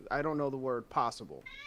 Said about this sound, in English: I heard a cat randomly